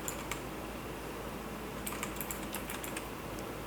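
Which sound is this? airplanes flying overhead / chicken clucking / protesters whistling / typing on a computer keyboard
typing on a computer keyboard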